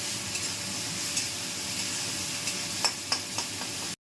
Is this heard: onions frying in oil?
yes